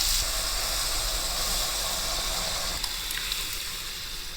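Green chili tempering poured into mung dal with stalks, giving a steady broadband sizzling hiss that holds loud and even throughout, with a few faint clinks near the end.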